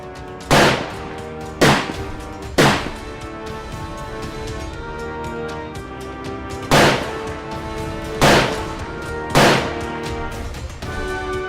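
Six loud gunshots fire at irregular intervals, each a sharp blast with a ringing tail, over a low steady background.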